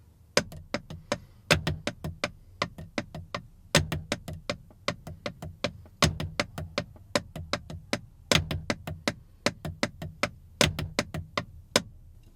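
Quiet snare drum ghost notes fill the sixteenths between steady hi-hat strokes in a 6/8 rolling groove, a dense, even stream of soft clicks with regular louder accents, played alone and close.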